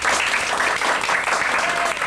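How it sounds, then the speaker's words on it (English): An audience at an improv comedy show applauds loudly and continuously, a dense, steady wash of clapping from a full room. "Round of applause."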